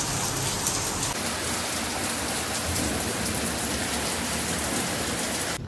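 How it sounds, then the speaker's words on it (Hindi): Steady rain falls outside during a rainy spell, a dense continuous hiss that stays loud and even throughout with no voices. "बाहर बारिश भी हो रही है"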